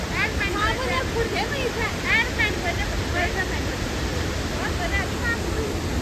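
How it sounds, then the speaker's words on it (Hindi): The Doggy Waterfall, a hidden waterfall at Suringgad, roars continuously with a strong, heavy water flow, a loud broadband rush close by, while people talk over it. "पानी का फ्लो बहुत ज़्यादा बढ़ चुका है"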